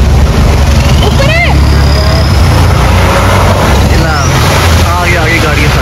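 Off-road 4x4s such as a Gypsy, Rubicon and Thar arrive on a rough trail, their loud, close engine rumble droning steadily while excited voices shout over it.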